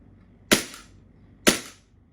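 A custom Glock 35 gas blowback airsoft pistol fires two sharp, loud semi-auto shots about a second apart, each followed by a short fading tail, with quiet between them.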